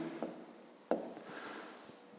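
Pen marks on paper while working a fifth-grade math exercise, faint close scratching strokes with a couple of sharper taps, quiet and without talk.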